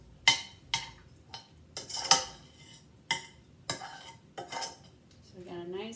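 A utensil scrapes and clinks against a dish as dried minced onion and garlic are stirred into an Amish noodle casserole, in several separate close strokes with quiet gaps and a faint creak near the end.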